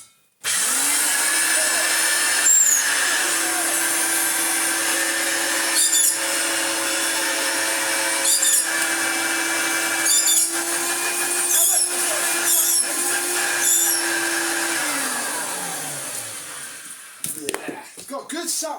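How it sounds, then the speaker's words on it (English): A Hoover Turbomaster U5120 upright vacuum cleaner with a non-turning brush roll runs with a steady motor whine, then winds down and stops near the end, with intermittent knocks and rustles. "Yeah, it's got good suction, but blimey, yeah, the brush roll isn't turning."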